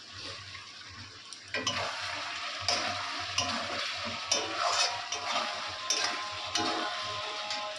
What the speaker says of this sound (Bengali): আলুগুলো দিয়ে দিই প্রায় কষা হয়ে গেছে আরও একটু কষতে হবে আলুগুলো দিয়ে একটু কষবো